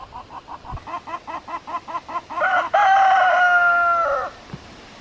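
A rooster on a small livestock farm gives a run of rhythmic clucks that build into a loud, drawn-out crow, close by, followed by quiet.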